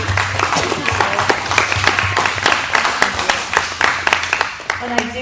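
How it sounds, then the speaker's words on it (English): A crowd at a talk applauds with layered, uneven clapping that builds and thins over five seconds, some louder individual claps standing out near the front, with faint voices and cheers mixed in. "Let's give her a huge round of applause."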